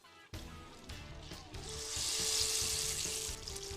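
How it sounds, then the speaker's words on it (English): Pieces of fried chicken go back into hot oil to finish cooking, setting off a bright, rising sizzle that grows louder and stays steady as the oil bubbles. "these are the ones going back in to the oil to finish cooking"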